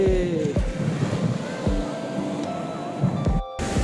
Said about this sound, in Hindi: और ये है देखिए रत्नाकर महासागर का उफान।